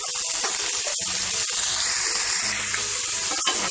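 A large chopped onion sautés in hot oil in a pan, giving a continuous loud hiss and sizzle with scattered clinks and scrapes of stirring.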